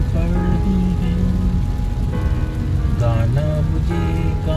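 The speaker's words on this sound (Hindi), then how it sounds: "ठंडी ठंडी बूंदें पड़ रही हैं," Cold raindrops fall in a steady, loud wash outdoors, while a tuneful voice or music weaves over the continuous patter.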